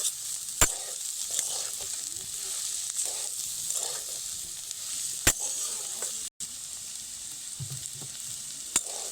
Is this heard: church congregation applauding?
no